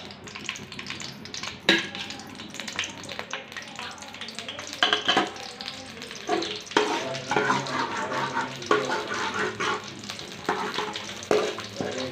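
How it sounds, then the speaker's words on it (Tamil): Mustard seeds and urad dal crackle and sizzle in hot coconut oil for a village-style snake gourd kootu, with steady frying hiss and scattered sharp pops and spoon stirs throughout. "தேங்காய் எண்ணெயில் தாளித்தா நல்லா டேஸ்ட்டாக வரும் கடுகு உளுத்தம் பருப்பு போட்டுக்கலாம்"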